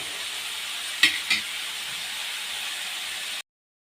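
Grated radish bhurji sizzles and fries in oil in a wok, a steady soft hiss with two quick clinks of a spoon stirring near the start before the sound cuts off.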